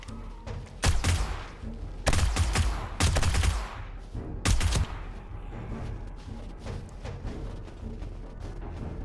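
Bursts of automatic gunfire in the video game 7 Days to Die, four loud volleys of rapid shots in the first half, then quieter scattered thuds and faint pops trailing off, with no voices.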